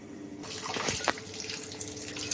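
Water pours and splashes steadily as cooked ada for Kerala paaladai pradhaman payasam is strained off, a close, continuous rushing stream with a brief louder gush midway and no talking.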